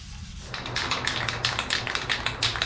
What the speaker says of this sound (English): So excited to do some more sanding.